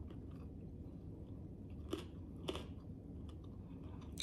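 A crunchy pork chop is chewed close to the mic, with soft steady mastication and a few sharper crunchy bites standing out, no talking.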